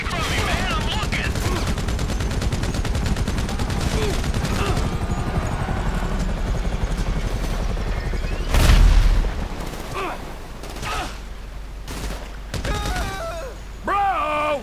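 Rapid bursts of gunfire in the video game GTA V, dense and loud through the first half with a heavy boom midway and scattered shots later, mixed with game sounds and music.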